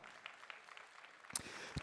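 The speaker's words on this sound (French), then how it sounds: "S'il vous plaît, applaudissez Maldo et Swalio." A short burst of audience applause and cheering at a Street Fighter 6 esports grand final, fairly loud with scattered claps and crowd noise, picking up toward the end.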